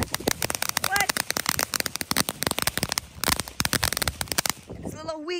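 New Year's fireworks set off nearby give a dense, rapid burst of loud crackling pops lasting several seconds, then fade as a person speaks.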